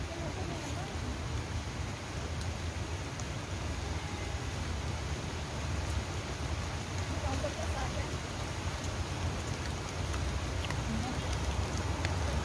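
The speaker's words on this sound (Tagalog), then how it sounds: "guys, it's raining" Steady rain falls over Fort Canning Park in Singapore, a dense, even hiss of drops pattering on surfaces that stays constant throughout, with voices talking underneath.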